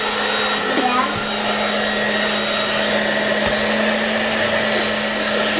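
A hair dryer blows air onto an ice cube in a bowl, a loud, steady whooshing roar with a constant motor hum that stays unbroken throughout.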